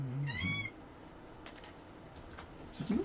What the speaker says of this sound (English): You are a needy kitty lately, aren't you?